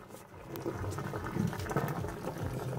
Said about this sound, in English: we got the noodles ready. We let them drain between 5 and 6, or about 5 or 8 minutes. So we're going to pour out the water now.